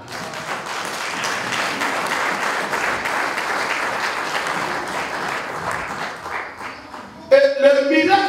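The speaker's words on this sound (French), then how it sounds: "acclamez le Seigneur" A church congregation applauds for several seconds in a dense, continuous wash of clapping that fills the room, then a brief voice cuts in near the end.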